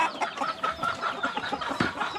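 A chicken clucking close by, a run of quick, soft, repeated clucks with no talking over it.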